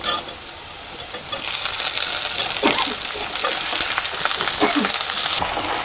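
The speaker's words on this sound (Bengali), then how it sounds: "এটাকেও অর্ধেক ভাজবো, ভেজে বাকি সবজিগুলো দেব।" Onion and vegetables fry in a pan for a Bengali greens curry with fish head, giving a steady hiss of sizzling oil with occasional stirring scrapes and light clinks throughout.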